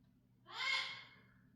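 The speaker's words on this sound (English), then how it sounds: "I don't know if you can hear one of our parrots in the background." One soft, breathy call from a pet parrot several rooms away, swelling and fading within about a second against a quiet room.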